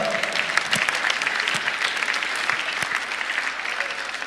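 Audience applause after a speaker at a 2023 wealth summit, a steady dense clapping from a large room with a few sharper individual claps standing out, continuous throughout the short stretch.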